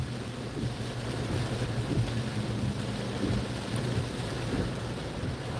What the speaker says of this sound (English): I'm getting all this rain, it's just not stopped.